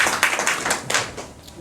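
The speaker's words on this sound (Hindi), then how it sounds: "अपने आप के लिए मैं जबरदस्त तालियां बजाइए" A short burst of audience clapping at a farm-products testimonial gathering, many hands striking together in dense, uneven bursts that fade slightly toward the end.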